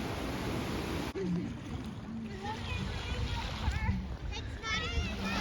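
A raging river near a waterfall at Emerald Bay State Park, Lake Tahoe, rushes and splashes loudly and continuously, heard from a boat ride while people, including a child, talk over the water.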